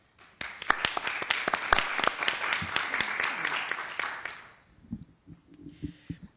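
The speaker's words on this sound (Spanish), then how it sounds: "Por lo cual les pido un aplauso" Audience applause at a welcome event, a burst of clapping that builds quickly, holds for about four seconds and fades out, followed by a few quiet low sounds.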